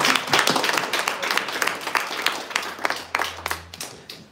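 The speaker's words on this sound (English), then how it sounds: "give her a round of applause" An audience at an AI and biological sciences event applauds, a dense burst of clapping that thins out gradually over several seconds, with a brief voice near the end.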